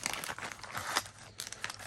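Scissors snip and crunch through crinkly plastic packaging nearby, a steady stream of rustling with brief tearing bursts.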